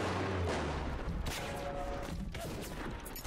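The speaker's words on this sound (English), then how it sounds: "Someone is shooting at me." Gunfire in the BioShock video game, a dense burst of overlapping shots and booms that keeps rolling loudly the whole time with no talking over it.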